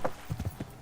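Horse hooves clip-clop in the Kingdom Come Deliverance video game, a quick run of close, rhythmic hoofbeats on the ground.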